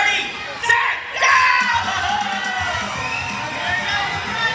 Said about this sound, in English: So girls, let's cheer louder for Sassy to win this time.